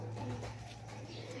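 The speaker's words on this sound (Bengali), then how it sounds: "এই দুটো পায়রা কে বন্ধুরা আমরা কালকে নিয়ে এসেছি" Two newly bought pet pigeons coo steadily and close by, a low continuous murmuring over a soft indoor room hum, with no talk.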